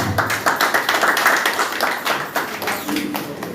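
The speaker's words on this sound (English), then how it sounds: "Please clap for her." An audience at a farm consultancy's presentation for outgoing intern students claps steadily for about three seconds, a dense patter of many hands that thins toward the end.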